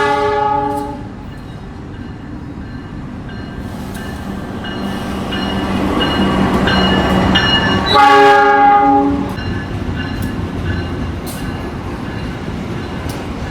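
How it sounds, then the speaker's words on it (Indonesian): A freight container train passes near a station on an Indonesian line, sounding a loud sustained multi-tone horn over the rumble and clatter of wagons, the horn swelling and then cutting off before the rolling noise continues. "Dan itu masuk jalur 4 kereta api barang peti kemas guys."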